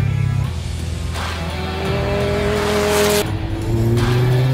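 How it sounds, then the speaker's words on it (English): A Dallara EXP race car drives hard, its engine note climbing and shifting through gears with a brief tire squeal, loud and close throughout. "It's a proper race car."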